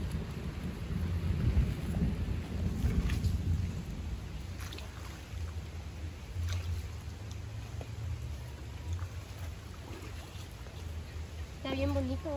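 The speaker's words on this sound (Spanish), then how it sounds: "Medio se logra ver las gotas que están cayendo ahí de la lluvia." Steady rain falls outside with thunder rumbling through it, a continuous wash of drops heard close by while people talk over it.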